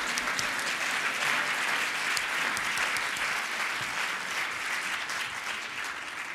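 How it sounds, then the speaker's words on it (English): Audience applause at a Morehouse School of Medicine state-of-the-school address, a steady dense wash of many hands clapping that holds evenly throughout with no voices. "I'm going to clap my hand myself."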